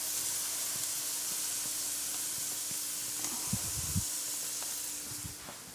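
Cooked rice sizzles in hot oil with shrimp in a pan, a steady hiss close by with a few soft scraping and stirring knocks near the end.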